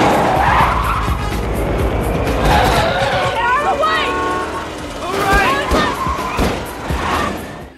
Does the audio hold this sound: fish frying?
no